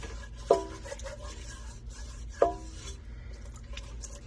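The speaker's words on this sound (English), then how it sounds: "Now that my milk is warmed up, I'm going to slowly stir this in here" Warm milk being slowly stirred into a roux in a pot, with a soft, continuous scraping and swishing and two sharp utensil knocks against the pan.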